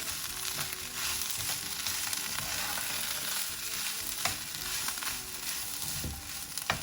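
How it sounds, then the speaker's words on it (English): Poha is stirred into frying onions in a pan, a dense continuous sizzle with occasional spatula scrapes and taps close by, and no talking. "I'm now going to add the poha to this. Mix it really well."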